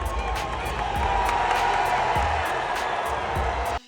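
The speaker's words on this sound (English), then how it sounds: "there seemed to be even more cheering." A packed football stadium crowd cheers for DeShaun Watson in his first game against the Texans, a dense, steady roar with scattered whoops that holds for several seconds and then cuts off abruptly.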